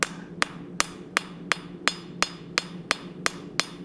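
Hammer blows drive out the edge of a hot cut hardy on an anvil, about ten sharp, ringing strikes falling at a steady, even rhythm, close and clear.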